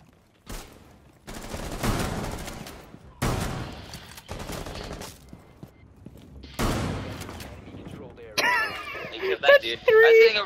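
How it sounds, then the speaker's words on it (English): Gunfire in Rainbow Six Siege, with several separate loud bursts of rapid shots spaced by short pauses, then a cluster of sharp shots and clatter at the end, with a player talking. "All of a sudden, he started shooting, and I ran in."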